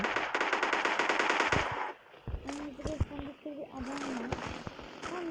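PUBG Mobile Lite gunfire rattles off in a loud rapid automatic burst lasting nearly two seconds, followed by scattered single shots and game tones while a person talks.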